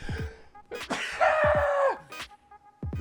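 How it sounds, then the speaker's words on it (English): A loud, sharp sneeze bursts out around the middle, with a strained vocal tail, set between a few short thumps and quiet breaths. "I'm going to sneeze"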